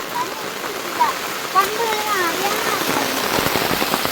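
Steady rain patters on surfaces close by, a continuous hiss with some faint tonal sounds mixed in, and no talking.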